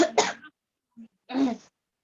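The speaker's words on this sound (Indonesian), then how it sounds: "Saha itu batuk" Two short coughs nearby, the first a quick double burst, the second a single rough hack after a brief pause.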